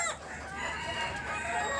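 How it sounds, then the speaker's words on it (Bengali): Chickens cluck and squawk in a coop, with overlapping calls and a rooster-like crow, close and lively throughout. "মুরগিরা লাফালাফি করে সব এলোমেলো করে রাখছে"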